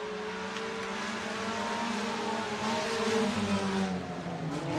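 Race cars run on the Buena Vista Raceway dirt oval during a modified and sport compact program, engines droning and revving together in a steady, loud roar as the pack takes the green flag.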